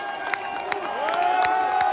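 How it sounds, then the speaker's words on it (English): A vast crowd of protesters marching over pensions in France, with firefighters among them, roars and cheers steadily in the distance. Whistles and shouts rise through the noise. "Vast crowds have assembled across the country."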